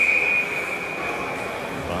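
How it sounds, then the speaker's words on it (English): A referee's whistle blows during a junior women's ice hockey game, a single shrill, sustained tone over rink ambience that fades after about half a second. "What was the whistle for?"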